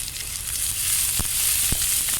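Chopped onion browning in a pan alongside aubergine and dry shrimp gives a steady, close sizzle of frying with a couple of brief stirring clicks and no voices.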